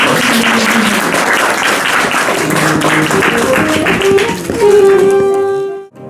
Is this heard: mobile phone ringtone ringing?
no